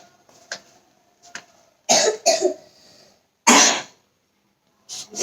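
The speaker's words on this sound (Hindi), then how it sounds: "सोते सोते भी खांस रहा है" A child coughs in several harsh, separate bursts, some in quick pairs, close by with quiet pauses between them.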